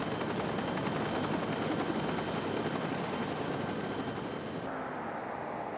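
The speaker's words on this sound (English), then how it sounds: "20-year-old Matt Enriquez was taken by Care Flight helicopter to a nearby hospital" A Care Flight medical helicopter drones steadily with a dense, close rotor chop, loud and continuous throughout, with no voices.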